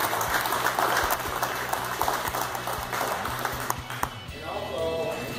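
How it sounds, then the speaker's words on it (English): An audience at a fishing club's custom rod raffle claps for Chuck, a moderate, fairly close patter of hands that thins toward the end while a murmur of talk carries on beneath it. "So let's all give Chuck a round of applause."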